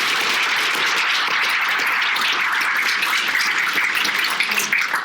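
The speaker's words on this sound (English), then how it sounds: "So round of applause for RY real quick." Audience at a live podcast recording gives sustained applause, a dense, even roar of many hands clapping in a room, with no talking.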